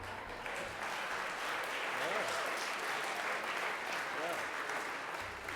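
An audience applauds the grade 12s for completing their underwear run, sustained dense clapping from a crowd lasting the full stretch, with a voice speaking faintly underneath.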